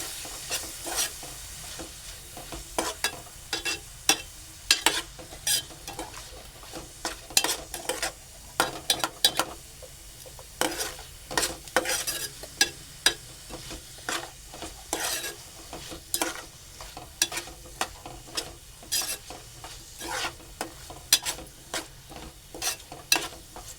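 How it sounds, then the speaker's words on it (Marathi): Onion and tomato sautéing with a little salt in a pan for a vegetable dish, a soft continuous sizzle under frequent scraping stirs of a spatula against the pan, close and steady with no talking. "मी आता इथे थोडंसंच मीठ टाकतो जेणेकरून आपला कांदा टोमॅटो शिजून जाईल चांगलं परतून घेऊया"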